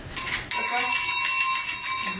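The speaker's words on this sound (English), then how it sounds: "ringing the silver sleigh bells that hung from their harness" Silver sleigh bells on a reindeer harness jingle in a bright, continuous shimmer, close and fairly loud, starting abruptly after a brief softer lead-in and ringing on for about two seconds.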